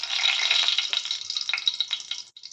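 Bay leaf dropped into hot oil in a pan, frying in a steady close sizzle with brief crackling pops, no voices over it.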